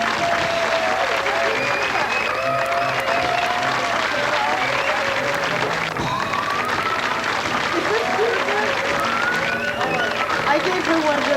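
Talk show studio audience gives sustained applause, thick continuous clapping with some cheering and crowd murmur, loud and steady for the full stretch.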